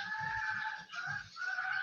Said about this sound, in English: Chicken Choker, we need you to deal with those roosters, mate.